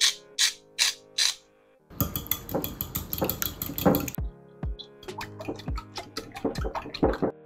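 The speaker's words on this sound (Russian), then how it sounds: "Переходим на плиту. Берем сковородку," A frying pan and dishes handled in a home kitchen: sharp clinks and clatters, a burst of busy scraping and rattling, then scattered knocks and taps, all close with no talking.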